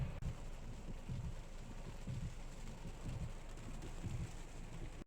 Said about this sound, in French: donc il y a des orages. Il y a un temps, mais ça a switché en quelques minutes. Donc là, ça gronde.